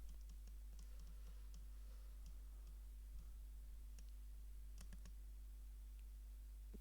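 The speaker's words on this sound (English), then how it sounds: "Is that someone typing I can hear?" Faint keyboard typing during a casual online chat, irregular light taps scattered over a steady low hum, distant and barely above the background.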